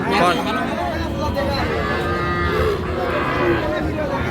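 Calves and young bulls mooing at a busy rural cattle market in Raniganj, a few loud bellows standing out over a steady crowd hubbub and nearby voices throughout.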